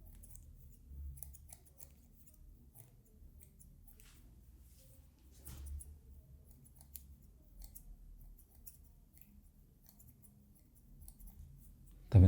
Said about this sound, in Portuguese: as partezinhas mais escuras, nós vamos removendo com uma tesoura dentada